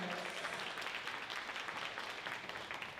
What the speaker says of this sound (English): Can we give a round of applause for all of our guest speakers?